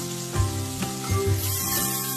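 Fish and garlic frying in oil, a soft sizzling hiss broken by a few dull thumps and short bursts as pieces shift in the pan.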